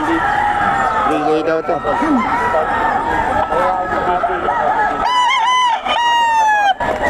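Gamefowl roosters, including a long-tailed stag, crow at a bustling Bocaue market, several loud cock-a-doodle-doo calls ringing out near and far amid clucking while people talk over them.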